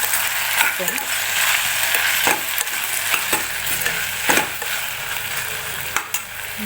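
Field beans (avare kalu) fry in a pan with a steady close sizzle, broken by several sharp scraping stirs of a utensil against the metal.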